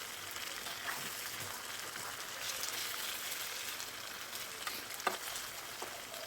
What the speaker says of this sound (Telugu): ఈ గరిటె అనేది సరిగ్గా లేదు, చేసేది కనిపించలేదు, అందుకని దీంతో నేను ఫ్రై చేస్తున్నాను.